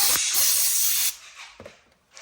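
Compressed air blasts from an air blower used to slide an ATV handlebar grip on or off, a loud steady hiss for about a second, then a few short, quieter puffs.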